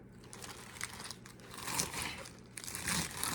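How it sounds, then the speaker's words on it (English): A knife chops lettuce for a salad, making steady crisp crunching and crinkling close by, with uneven cuts running through the whole stretch and no voices. "Just cut all your lettuce up."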